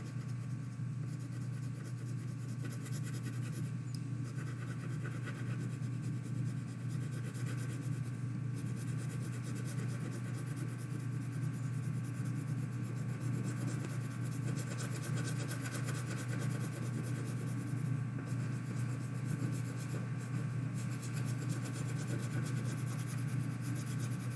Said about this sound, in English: Or you can use colored pencils like I'm doing.